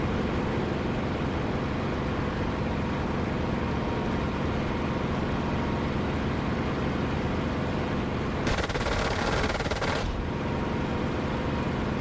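Cannon fire from a jet in the DCS flight simulator game, a dense broadband burst lasting about a second and a half over a steady engine drone.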